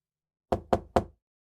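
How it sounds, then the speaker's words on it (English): Three slow, evenly spaced knocks on a bathroom door, close and dull, following a brief silence and then fading into quiet. "I heard knocking on the bathroom door. Slow, steady."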